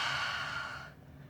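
Breathing during a yoga pose: one long, close exhale that fades out, heard alone with no talk.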